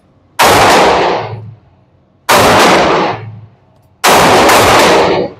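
Three loud, evenly spaced gunshots from a firearm fired at an outdoor range toward a center target, each a sharp crack followed by a long ringing decay, with no talking.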